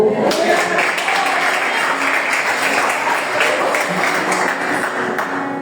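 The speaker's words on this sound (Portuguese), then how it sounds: "Você pode aplaudir o Senhor." Church congregation applauding steadily during a Wednesday pastoral service, a dense, sustained clatter of many hands filling the room from start to finish with no break.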